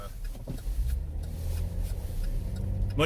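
Chevrolet Impala (8th/9th gen W-body) on winter tires and new KYB struts rolling over bumpy road, a steady low road and engine rumble with faint thumps from the suspension, fairly close and continuous throughout.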